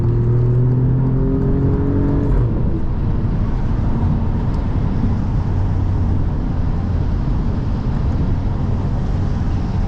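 Alfa Romeo Giulia, an Italian super sedan, accelerating while driving in the rain; a steady engine drone with rising tones early on, then a broad continuous road and rain roar for the rest of the clip, close and fairly loud, with no talking.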